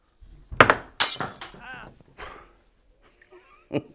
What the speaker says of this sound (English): Hope you put a sound effect on that, like a smash window